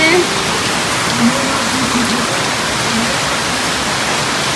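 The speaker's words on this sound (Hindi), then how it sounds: "आज देखो कितनी ज़्यादा बारिश लग गई।" Steady, dense hiss of heavy rain pouring without pause, loud and close, with a faint voice briefly audible underneath.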